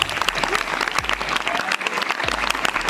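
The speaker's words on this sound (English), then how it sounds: "Shall we give a big round of applause for their parents?" Crowd applause at a Pongal celebration, dense continuous clapping from a large audience, fairly loud and sustained, with a low rumble beneath.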